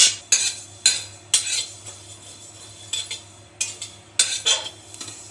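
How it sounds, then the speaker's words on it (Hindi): Fennel seeds roasted over a high flame while a spoon stirs and scrapes the pan, sharp metallic clinks and scrapes arriving in irregular bursts over a faint steady hum, close and moderately loud, no voices. "हमने इसमें सौंफ को डाला है और इसे भी हाई फ्लेम पे लगातार चलाते हुए भूनेंगे"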